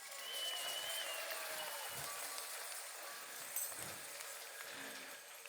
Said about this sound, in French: vous pouvez vous applaudir rien que pour ça